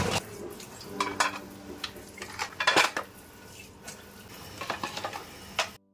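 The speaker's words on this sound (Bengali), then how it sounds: "কিছু বাসন ছিল সেগুলো আমি সব ধুয়ে নিলাম" Dishes, pots and utensils are washed at home, with metal and crockery clinking and clattering close by in irregular bursts and no speech.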